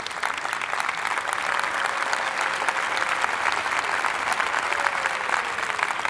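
Sustained applause from an audience celebrating a graduation, a dense, even patter of many hands clapping at steady loudness for several seconds with no voices standing out.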